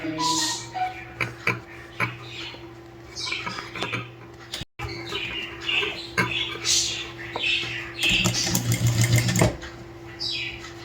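Short bursts of a sewing machine stitching a sleeve, with a steady hum underneath and scattered clicks and rustles of fabric handling between the runs.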